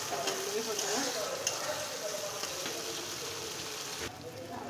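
Spice masala fried in oil until the oil separates, for loitta fish bhuna: a dense, steady sizzle close up, with faint stirring scrapes through it.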